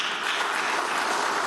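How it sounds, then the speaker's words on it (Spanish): An audience claps steadily at a memorial gathering in a chapel, a fairly soft, even wash of applause that holds without pause for its short length. "Vale, un aplauso, vale."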